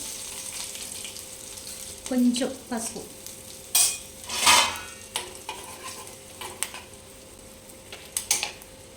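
Mustard seeds, cumin, a dried red chili and crushed garlic tempering in hot oil, with soft sizzling and crackling bursts and a few stirring scrapes, while a voice speaks briefly over the pan.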